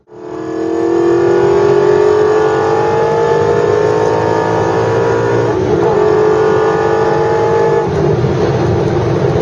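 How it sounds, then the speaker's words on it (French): An Aston Martin V8 Vantage revs hard on the road, its loud, close V8 snarl climbing steadily in pitch through the gears with a brief dip near the middle, no voices over it. "on est sur un bruit, un feulement vraiment de V8 qui devient rageur par contre passer les 5000 tours"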